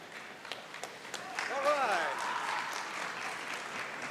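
Scattered applause at a university academic and athletics award banquet as a player leaves the stage, moderate clapping from a banquet crowd with a voice speaking over it partway through.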